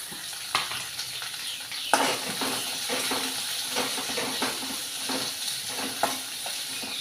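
Onions fry in a pan for a bitter gourd curry, giving a loud, steady sizzle broken by repeated close scraping and stirring knocks from a spoon. No one speaks.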